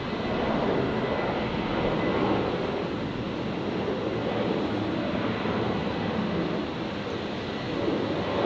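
A Qantas Boeing 737 rolls for takeoff on runway 01 Right at Brisbane International, bound for Melbourne, its jet engines making a loud, steady broadband roar that holds evenly for the whole stretch with no voices.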